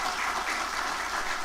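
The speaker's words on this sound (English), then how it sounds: "I would like to give a round of applause to the panelists for the presentations" Applause for the panelists at a conference session, a steady, evenly sustained wash of many hands clapping in a hall, moderately loud and without talk.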